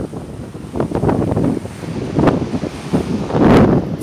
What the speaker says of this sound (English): It's gonna be really, really windy today